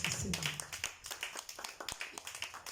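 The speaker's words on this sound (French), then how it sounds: "applaudissez Jésus pour vos vies." A church congregation claps during a worship service, a faint rhythmic run of hand claps keeping a steady beat with a few louder accents.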